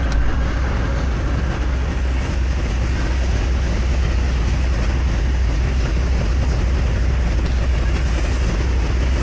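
A train in the Trainz railway simulator rolls downhill with brakes applied, giving a loud, continuous rumble with a low drone and no talk.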